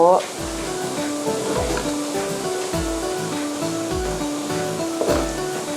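Chopped garlic sizzles steadily in hot oil in a pan, a dense continuous crackle close by, with someone talking over it and repeated low thumps of stirring underneath.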